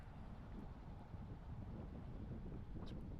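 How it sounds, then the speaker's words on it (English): Strong wind buffets the microphone on an off-road mountain trail in Hualapai Mountain Park near Kingman, Arizona, a continuous low rumbling roar with gusty fluctuations and no voices. "It's pretty darn windy."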